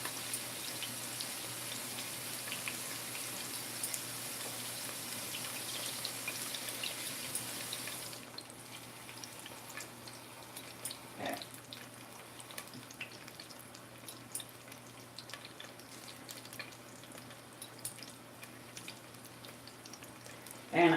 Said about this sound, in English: I'm going to get some nice hot water from our sink.